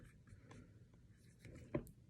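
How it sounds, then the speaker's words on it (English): A marker writes on a whiteboard with soft, close squeaks and rubbing strokes in short uneven bursts, ending in one sharper tap. "Here, I'll write it out. on the whiteboard so that y'all can have it too."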